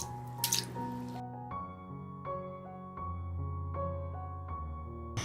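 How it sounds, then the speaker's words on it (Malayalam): Boiled wheat dough pieces drained through a sieve: a short splashing pour of water near the start, then quieter dripping and trickling with ringing tonal sounds. "ഇനി ഇത് അരിപ്പയിലേക്ക് അങ്ങ് അരിച്ചു മാറ്റാം"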